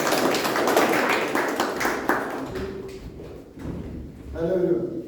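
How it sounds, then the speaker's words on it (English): A Toastmasters meeting audience gives a speaker a round of applause, loud mixed clapping that thins out over a few seconds before a voice begins talking. "A big round of applause."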